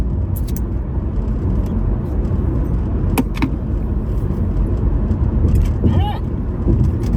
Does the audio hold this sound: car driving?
yes